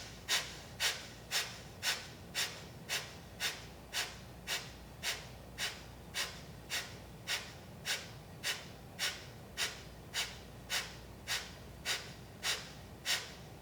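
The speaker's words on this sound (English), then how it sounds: "Now it's all exhales." Rapid, forceful pranayama exhales come through the nose or mouth in a fast, even rhythm, about two sharp puffs per second, close and distinct against quiet background, repeated over twenty times with no talking.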